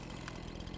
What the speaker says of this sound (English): So then I just get my chainsaw out